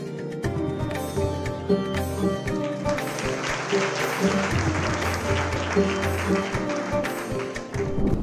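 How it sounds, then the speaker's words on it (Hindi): Crowd applause at an outdoor send-off event for CRPF women bikers in Sitapur, dense clapping mixed with background music and thumps, sustained throughout at moderate loudness. "तालियां आपकी बजती रहनी चाहिए।"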